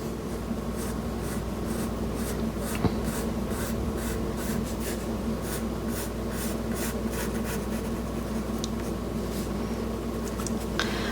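A pencil sketching on paper while drawing an eye for a portrait study, a steady close scratching with short repeated strokes, continuous and unaccompanied by speech.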